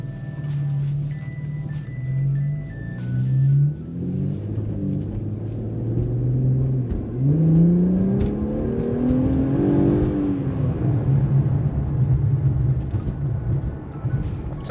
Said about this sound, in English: So even with the windows up, you still get a nice little bit of noise. You still get to hear those turbos kick in a bit more.